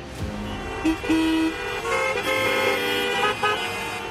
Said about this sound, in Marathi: किती जोरात हॉर्न्स वाजवतायत यार